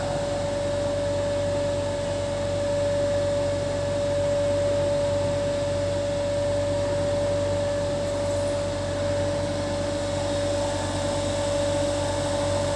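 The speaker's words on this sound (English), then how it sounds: "We are giving the supply, and by using this starter we are starting the motor" A DC motor, coupled in a lab setup for testing a DC series generator, runs steadily after being started with a starter, giving a continuous even whine and hum at constant loudness with no talk.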